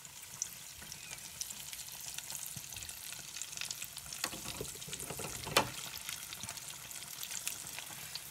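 Ste-Catherine taffy doughnut dough frying in shallow oil in a small home deep fryer, a steady close sizzle and crackle with occasional louder pops, no voices.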